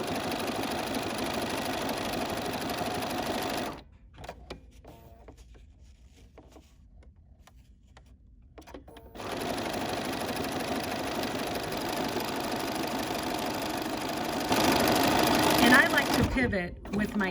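A sewing machine runs a fairly close zigzag stitch around the edge of a fabric postcard, whirring steadily in two bursts with a quiet pause between them; a voice talks over it.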